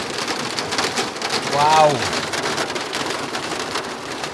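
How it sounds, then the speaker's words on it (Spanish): Heavy hail pelts a camper van in a dense, continuous drumming roar up close, and a person briefly exclaims over it. "Mira cómo está cayendo, pero una gorda de granizo. ¡Granizo, granizo!"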